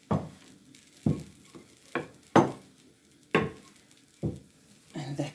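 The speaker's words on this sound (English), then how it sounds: "That one is frying so long, please." Cape Malay roti frying in a pan, with a quiet sizzle broken by sharp scraping and tapping bursts at roughly one-second intervals, close and otherwise alone.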